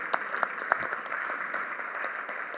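An audience in a school district gathering gives the board a round of applause, steady clapping with a few sharp, close individual claps standing out near the start.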